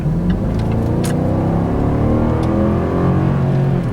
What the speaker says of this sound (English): It downshifted that time, and it just sucks you back into your seat.